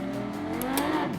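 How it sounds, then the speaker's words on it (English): F1 racing simulator car at the start at Silverstone with wheel spin, a brief engine rev with rising pitch that sweeps up and then drops, heard at moderate level. "Oh, that's a good start. A little bit of a wheel spin."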